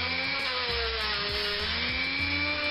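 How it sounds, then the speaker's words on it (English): A buffing polisher works on the connecting rods of a Triang Hornby R855 LNER A3 Flying Scotsman model locomotive, giving a steady high whine with shifting tones as the rods are pressed against the wheel, loud and continuous with no talk. "at this point, I'm polishing the motion bracket, or the connecting rods"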